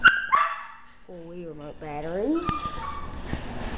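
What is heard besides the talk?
young dog barking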